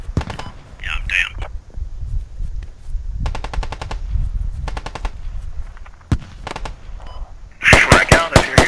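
Machine gun fire from the video game Squad comes in several short, sharp bursts spread across the scene, loud and close, with background game noise and brief voices between the bursts.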